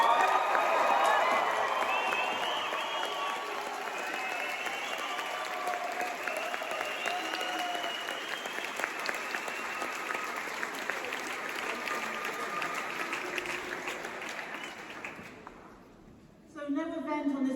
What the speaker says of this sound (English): loudest cheer you've got for everybody in this room?